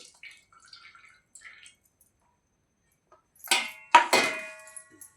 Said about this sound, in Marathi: मग काही दोन तीन पाण्यांनी बोबे धुवून घेतले